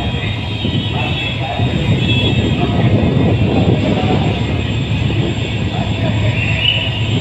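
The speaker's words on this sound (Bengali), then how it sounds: "টুঙ্গি থেকে কমলাপুরের উদ্দেশ্যে রওনা দিচ্ছে ৩০৮ লোকোমোটিভ ইঞ্জিন।" A new American-built Bangladesh Railway locomotive, number 3008, pulls out of Tongi station bound for Kamalapur. Its loud, steady engine drone and rolling rumble stay close and constant throughout, with no pause.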